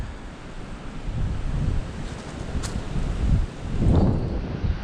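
Wind picking up outdoors during work on a Fisher snow plow's cutting edge, rising and falling gusts that rumble and buffet the microphone, with surges building louder toward the end and no talk.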